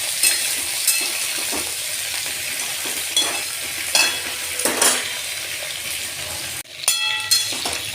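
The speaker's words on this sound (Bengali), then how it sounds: "কপি আলু একসঙ্গে ভেজে নেব ভালো করে।" Cauliflower and potatoes frying together in a pan, a loud steady sizzle with repeated stirring scrapes and a few metallic clinks near the end, close with no talking.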